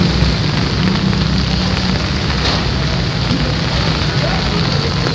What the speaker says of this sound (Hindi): बहुत तेज़ बारिश लगी ने इस टाइम टैक्सले च